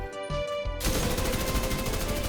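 Automatic rifle fire in The Division 2, a few scattered shots followed by a sustained, rapid burst of loud, evenly spaced rounds.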